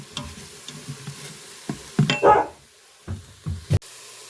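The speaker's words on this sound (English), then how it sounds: "sauteing up the mushrooms," Mushrooms, carrot and onion stirred in a hot pan, with soft scraping and a few clinks of a utensil over a faint sizzle, louder bursts in the middle.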